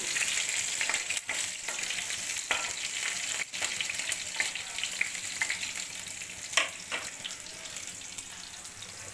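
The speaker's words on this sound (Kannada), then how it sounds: "ಎಣ್ಣೆ ಹಾಕಿ ಬಾಣಲಿ ಇಟ್ಟು ಸಾಸಿವೆ ಚಟಪಟ ಅಂದಮೇಲೆ ಬೆಳ್ಳುಳ್ಳಿ ಹಾಕ್ತಾಳೆ" Mustard seeds crackle and spit and garlic sizzles in hot oil in a pan for tempering a drumstick-leaf stir-fry, a dense continuous hiss broken by sharp pops throughout, with no voices.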